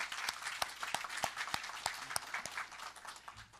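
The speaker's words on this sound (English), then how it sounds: "how about a nice round of applause?" A small audience at a school board meeting claps, a soft patter of hands with a few sharper claps standing out, fairly distant and fading toward the end.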